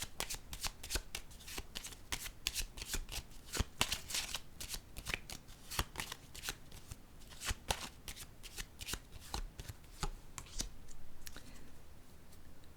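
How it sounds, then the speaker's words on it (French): Tarot or playing cards being shuffled and laid down during a card reading, a dense run of crisp riffling snaps and soft slaps, close and steady, with no talking. "Je vais déposer maintenant une carte sur la patience."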